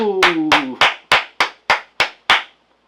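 Eight sharp, evenly spaced hand claps ring out loud and close, the first few overlapping a brief vocal tone before the rest sound alone and fade out cleanly.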